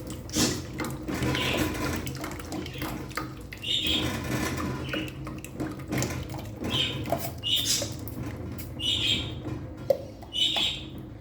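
Birds chirp in short repeated bursts in the background outdoors while something scrapes and clatters nearby, like stirring plantain porridge on a stove.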